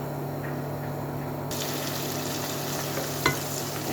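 Onion frying in a pan for a mung bean curry, a steady close sizzle over a low electrical hum, growing brighter partway through, with one brief clink near the end.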